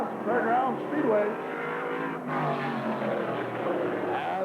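Race cars at LaCrosse Fairgrounds Speedway, a nostalgia reunion event, roar past side by side out of the final turn, with loud engine drones rising and falling under an announcer's commentary.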